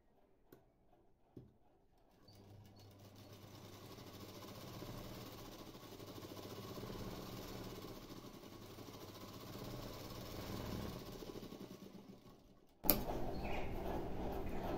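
A sewing machine runs a double line of stitching along the shoulder seam of a dress, humming steadily and faintly for about ten seconds after a few soft clicks, then cutting off into a sharp, louder clatter.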